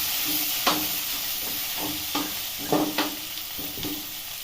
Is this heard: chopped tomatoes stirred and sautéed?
yes